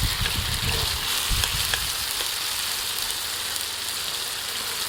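Ginger and garlic frying in hot oil give a steady close sizzle and crackle, a continuous hiss with a few low pops early on, with no voice over it.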